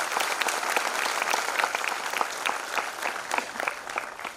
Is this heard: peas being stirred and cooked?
no